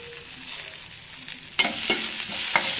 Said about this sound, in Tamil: கருவேப்பிலை போட்டு வெங்காயத்தையும் அதோட போட்டு நல்லா வதக்கிடணும்